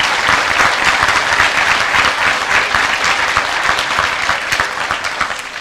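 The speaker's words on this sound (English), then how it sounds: "give them a round of applause" An audience at a middle school Veterans Day breakfast applauds the students, loud close clapping from many hands holding steady before easing slightly at the end.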